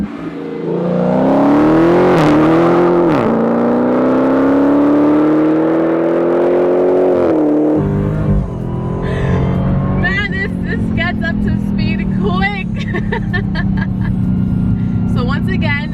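A Dodge Challenger Hellcat Redeye pulls hard in first gear from about 20 mph, its loud engine note rising steadily and dipping at a shift, then settling into a lower drone with a person talking over it.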